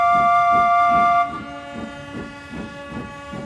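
A steam engine whistle in a model railway story sounds as a loud sustained tonal blast that cuts off after about a second, followed by rhythmic chuffing and a lingering lower tone.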